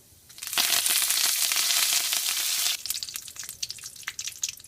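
Curry leaves hit hot olive oil with mustard seeds and dal, bursting into a loud, dense sizzle that settles after a few seconds into crackling, popping spatter close by, with no voices.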